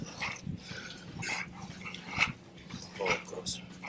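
A hunting dog during a wild hog catch in Florida growls and whimpers in short bursts, with voices talking around it.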